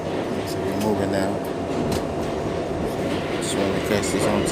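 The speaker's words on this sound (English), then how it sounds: "Train is moving." A New York 6 subway train moving through the East River tunnel after a power loss, a loud continuous rumble with rail rattle and faint squeals, heard close from inside the car.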